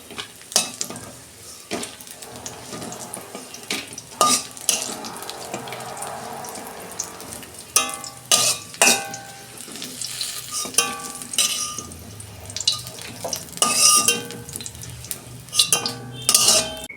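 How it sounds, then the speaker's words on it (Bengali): Potatoes and eggplant frying in hot oil at a home stove, giving a steady crackling sizzle with sharp bursts and clatters of stirring near at hand, and no talk. "ওই তেলেতে আমি আলু বেগুনগুলো ভেজে নেব"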